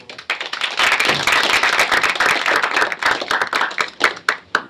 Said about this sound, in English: let's give a round of applause for Bill and Bill.